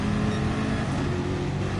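A Chevrolet Corvette race car in a racing video game brakes hard into a hairpin, its engine droning loudly and steadily throughout with a dense, continuous roar.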